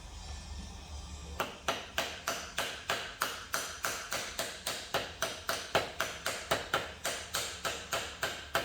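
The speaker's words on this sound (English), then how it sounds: "Just tapped them in with a screwdriver." Bearings driven in with a screwdriver during a 4-wheeler one-way clutch repair, a long run of about two dozen sharp, evenly spaced metallic taps after a quiet start, close and steady with no talking.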